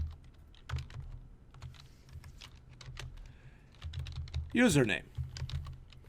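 Keys clatter on a computer keyboard in quick irregular bursts of close clicks, with a short spoken phrase breaking in near the end.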